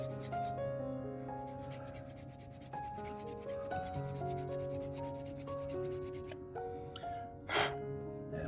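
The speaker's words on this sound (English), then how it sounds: "now we have to sand this here to get a flatter surface" A model kit part is sanded to flatten its surface, giving a steady rubbing, rasping scrape under continuous background music.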